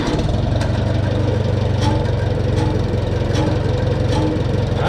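Farmall B tractor engine idling steadily nearby, a loud even low chugging throb with regular knocking pulses throughout, no voices over it.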